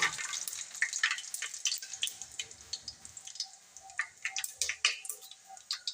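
Mustard seeds, cumin and curry leaves sizzling and popping in hot oil in a pan while cooking pulao, with a steady crackle and many sharp little pops close up, no talking.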